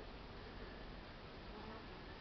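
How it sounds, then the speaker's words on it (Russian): A dense, steady buzzing of many honeybees flying around their hive in February fills the air, a constant swarming drone with no pauses or voices. "Ну, работает пчелы, за водой летать сейчас."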